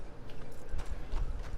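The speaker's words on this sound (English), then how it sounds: "Oh, that's Dutch's horse?" Horse hooves clip-clopping in Red Dead Redemption 2, a steady walking rhythm of soft thuds at moderate distance over a low ambient rumble.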